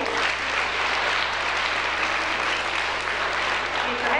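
Dense, continuous applause fills a school hall at a 1997 Christmas ceremony in Cibakháza as pupils are honoured, a loud, even wash of many hands clapping with no break.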